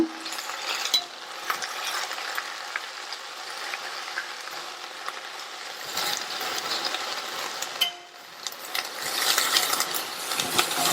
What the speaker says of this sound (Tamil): இந்த கீரையை எண்ணெயிலேயே நல்லா வதக்கி விட்டுக்கங்க.